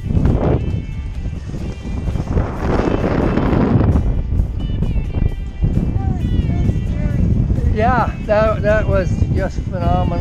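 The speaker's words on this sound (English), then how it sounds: "And just the wind pushing against my back, you know, pushing us from behind." Wind gusts buffeting a sailboat on the Chesapeake on a stormy day, a loud rough roar of wind across the microphone that swells and eases, with faint squeaky tones and creaks later on.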